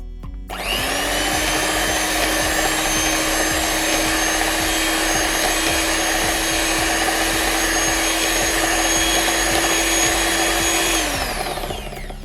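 An electric mixer beats egg yolks with butter for a vanilla sponge cake, a loud steady whir that starts abruptly, holds evenly for about ten seconds and then winds down.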